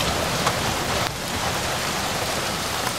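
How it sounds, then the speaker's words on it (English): Steady rain hisses down continuously on a campervan, dense and close, with a few sharper drops tapping out over the constant wash. "Listen to the rain."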